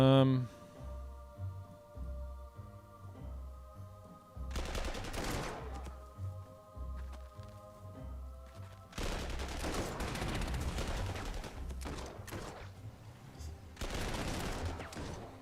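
Artillery and gunfire from the video game Panzer Corps 2 crash in three heavy, sustained barrages, separated by quieter stretches over a low musical backdrop.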